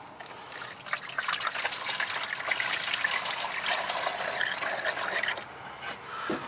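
Engine coolant pours steadily through a funnel into the overflow of a 1998 Sonoma pickup truck, a continuous close gurgling trickle lasting several seconds with no talk.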